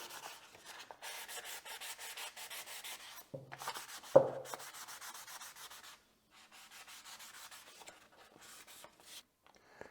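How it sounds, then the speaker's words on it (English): 600-grit wet sandpaper rubs back and forth on a Yamaha YZ 250FX dirt bike swingarm in steady, rhythmic strokes, soft and close, with a brief knock and a short pause in between. "So we're going to get some sandpaper out and get this thing cleaned up."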